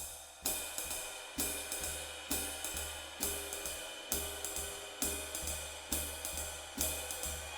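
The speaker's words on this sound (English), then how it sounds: "Is accenting 2 and 4 on the ride cymbal" A ride cymbal keeps a steady swung jazz pattern with crisp stick pings and slightly stronger accents on beats 2 and 4, played alone and up close.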